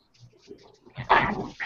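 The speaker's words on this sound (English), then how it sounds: "It does not look like you killed or got rid of the dog, Mike." A dog barks and whimpers in a short, close burst of yips and a louder bark, with no talk.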